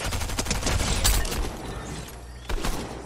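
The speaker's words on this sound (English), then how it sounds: "I hear a lot of shots." Rapid volleys of gunshots in Fortnite, a dense stream of cracks for the first second and a half, a quieter lull, then another loud burst near the end.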